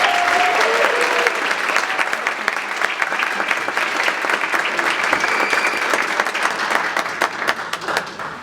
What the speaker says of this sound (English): let's give Loretta one more round of applause.